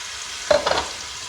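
Beef tripe with cumin sizzles in hot oil, a soft, continuous frying hiss with two brief louder crackles as pieces are added, close up and alone.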